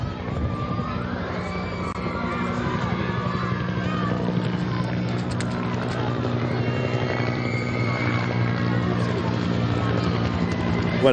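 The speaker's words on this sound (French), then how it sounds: "nous entendons le bruit de l'hélicoptère du pape" The Pope's helicopter passes overhead near a cathedral in Bagnoregio, Italy, a steady rotor drone that persists throughout beneath a voice.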